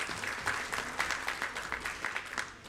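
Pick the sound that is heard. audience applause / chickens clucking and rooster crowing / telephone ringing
audience applause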